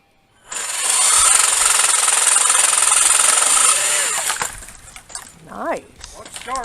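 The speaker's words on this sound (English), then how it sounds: "the RYOBI battery powered 40 volt chainsaw and pole saw, and they're going to cut some trees down" A RYOBI 40-volt battery chainsaw runs at a loud, steady whine for about three seconds while cutting trees, then winds down; short barks and voices follow.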